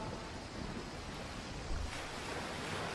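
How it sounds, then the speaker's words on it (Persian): Ocean waves surging into a rock cavity on a wild South African coast, a continuous broadband roar of surf with wind noise on the microphone and a brief low thump midway, with no voices. "وقتی امواج دریا با این حفره برخورد میکنه صدایی ایجاد میشه مانند رعد و برق"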